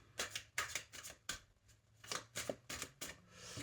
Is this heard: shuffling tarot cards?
yes